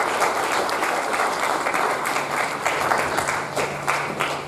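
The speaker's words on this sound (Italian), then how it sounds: "vorremmo dedicare un ultimo forte applauso al ricordo del professor Giuliano Di Benedetti" An Italian conference audience gives a final memorial round of applause, a sustained, moderately loud patter of many hands with uneven surges, over a faint low hum in the hall.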